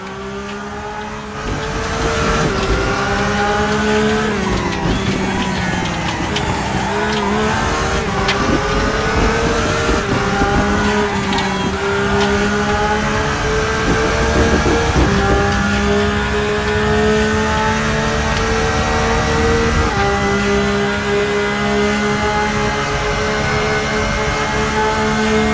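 A Porsche 991.2 GT3 R race car engine in the RaceRoom video game, racing at Spa, screams loud and close throughout, its pitch climbing through gears and dipping under braking with brief shifts.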